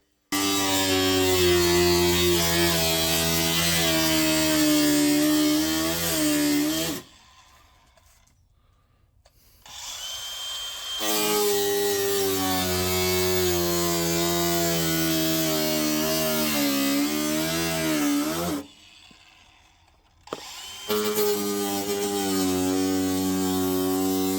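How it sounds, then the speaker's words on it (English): An angle grinder cuts a circular hole in the sheet-metal body of a Jeep XJ for a snorkel, a loud steady whine in two long passes, about seven seconds each, separated by a brief quiet pause. "so we opted to just use an angle grinder"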